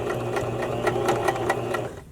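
A sewing machine stitches bra elastic in a steady, fast mechanical whir with rhythmic clicking pulses, close and clear, before stopping at the end.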